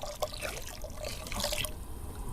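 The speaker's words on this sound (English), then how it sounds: "And now some vegetable stock, and that's to say hot water and vegetable stock granules." Hot water mixed with vegetable stock granules is poured into a coconut curry of butternut squash and sweet potatoes, giving a close, steady liquid splashing and trickling for a couple of seconds.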